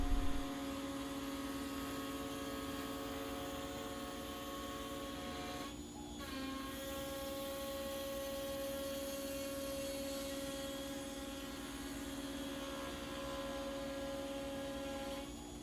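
A CNC machine cuts a dado for a shelf in a four-way adjustable shop desk, giving a steady, loud tonal whine and hum with a brief dip partway through, then carrying on unbroken to the end.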